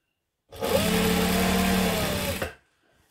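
A home sewing machine runs in one steady two-second burst while stitching the hem of a circle skirt dress, a close, even motor whir with a fast needle rhythm that starts and stops abruptly.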